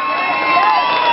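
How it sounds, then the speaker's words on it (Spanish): A crowd at a motorcycle raffle rally cheers and whoops for a prize winner, a loud, close burst of shouting voices with children's cries mixed in. "Un aplauso, por favor."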